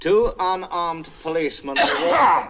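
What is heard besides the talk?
sneeze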